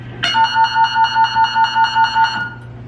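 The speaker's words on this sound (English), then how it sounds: "They were always alerted to an incoming message by way of this sound." A Titan missile control room's incoming-message alert sounds as a loud, rapid pulsing electronic tone, about ten even beeps in under three seconds over a steady low hum, with no one speaking.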